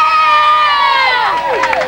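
A crowd at a 1991 company picnic at Yorba Regional Park cheers for a team called the Eliminators, several voices yelling together in a loud, sustained shout that wavers and falls away toward the end.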